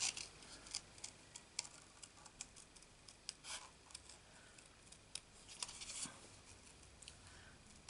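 Scissors cut a pawn piece out of stamped paper, producing a steady run of faint, crisp snipping clicks at a slow, irregular pace, close but quiet.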